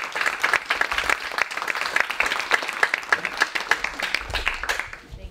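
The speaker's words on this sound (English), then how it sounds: "Big round of applause" An audience at a poetry event gives a poet a round of applause, a dense run of hand claps that holds steady and loud before tapering off at the end.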